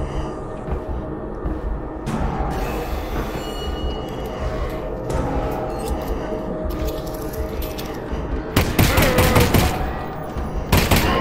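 Gunfire in Half-Life: Alyx: a stretch of mechanical clattering and clicking, then rapid, loud bursts of shots near the end.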